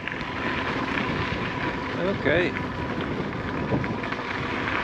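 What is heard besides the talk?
wind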